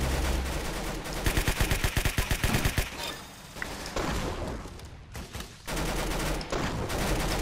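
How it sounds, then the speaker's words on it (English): Rapid burst of rifle fire from a concussion rifle in the Roblox shooter Arsenal, a dense run of sharp shots followed by more scattered blasts and rumbling explosions in a busy in-game firefight. "Concussion rifle is so OP, but I suck with it."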